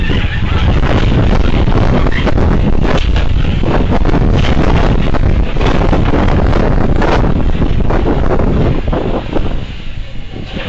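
Strong cyclone wind blasts across a microphone in a village, a loud, constant buffeting roar with gusty surges and rumbling low end that barely eases near the end, with no clear talk over it.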